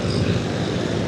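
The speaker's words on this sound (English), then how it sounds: "the 414 is a fantastic airplane" A Cessna 414 twin-engine airplane taxis in an airshow parade, its engines making a loud, steady propeller drone through the whole short stretch.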